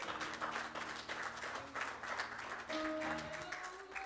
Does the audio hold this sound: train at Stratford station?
no